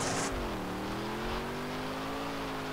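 BMW car engine in GTA San Andreas, a steady droning hum whose pitch dips then levels off as the car labours, fairly loud and constant throughout, with no talk.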